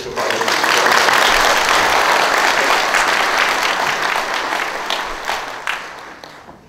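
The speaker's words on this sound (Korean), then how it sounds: "박수로 우리 신부님 맞이해주시죠" An audience applauds to welcome a priest at a Catholic spiritual education gathering, with dense, loud clapping that holds steady and then tapers off toward the end.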